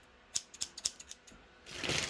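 Scissors snip through the plastic of a vacuum-sealed bamboo memory foam pillow package in a quick series of sharp clicks and cuts, close up. A rising crinkly rustle of plastic follows.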